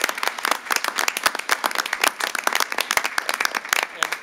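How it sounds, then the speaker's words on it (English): A modest audience at a city council meeting gives a round of applause, individual hand claps standing out sharply in a lively, uneven patter that holds steady throughout. "So please give them a round of applause."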